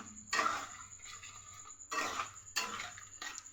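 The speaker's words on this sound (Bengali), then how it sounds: "এবার ভালো করে এটাকে কষিয়ে নেব" Bitter gourd being stir-fried with turmeric and a pinch of sugar, a spatula scraping and clinking against the pan in a few separate bursts, close but quiet with no voices.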